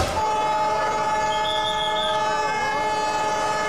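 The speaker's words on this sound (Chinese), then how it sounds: "这就是印度式火车吗？" An Indian passenger train rumbles steadily past at close range, wheels clattering on rails amid broadband roar, with sustained horn-like tonal whines rising through the middle of the passage.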